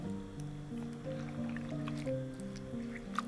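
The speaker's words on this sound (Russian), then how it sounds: "Промываем картофель." Potatoes are rinsed under cold tap water, giving a steady wet squishing and dripping with small splashes through the whole stretch; a faint musical tone runs beneath.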